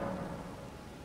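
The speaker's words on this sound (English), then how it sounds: "Dang it, the rain's still here." Steady rain in Elden Ring, a constant broadband hiss of falling water with a low rumble underneath, loud and unbroken for a brief stretch with no talking.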